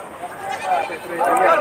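A black-and-red goat at a livestock sale in Batangas bleats in short wavering calls, close by, while people talk around it.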